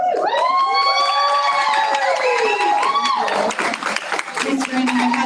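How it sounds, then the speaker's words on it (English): A school board meeting audience acting as a cheering section, loud sustained whoops and shouts from many voices, rising then breaking into clapping and scattered cheers close by. "Ms. Granning, you had to pause for your cheering section."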